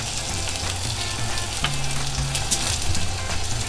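Seared steak sizzles steadily in a hot pan, a loud continuous crackle and hiss of frying fat with a few sharper pops, alone with no talk.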